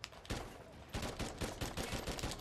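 Call of Duty: Ghosts online team deathmatch gunfire, a single shot followed by a rapid burst of automatic fire in quick rhythmic pops, loud and close, with no voices.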